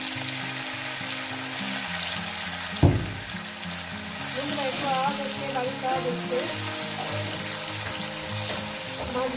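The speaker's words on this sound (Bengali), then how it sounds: "তেলটা গরম হয়ে গেছে এবার আস্তে আস্তে মাছগুলো আমি এখন দিয়ে দেবো" Lote fish (Bombay duck) sizzles steadily in hot oil in a home kitchen. A sharp splash-hiss rises as the pieces go in, and a voice talks under the frying.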